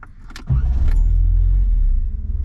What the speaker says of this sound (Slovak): auto máme hotové a pozrite sa, ako ten motor chytá